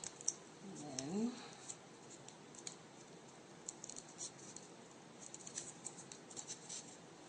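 Scissors snip through paper for Chinese jianzhi paper cutting, a few soft, close crisp cuts and faint rustling scattered over several seconds, low and quiet with no talking.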